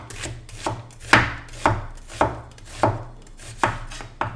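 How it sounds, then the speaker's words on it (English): A kitchen knife julienning an onion on a cutting board, steady evenly spaced chops about twice a second, crisp and close with no talking. "that's what's called julienning an onion"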